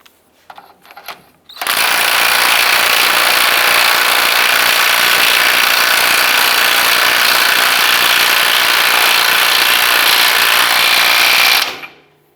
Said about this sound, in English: I'm going to go ahead and tighten up our lower ball joint.